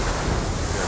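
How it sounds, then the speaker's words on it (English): Continuous wash of ocean waves and wind in the naval game Age of Water, a steady dense roar with no distinct breaks. "Look at these waves."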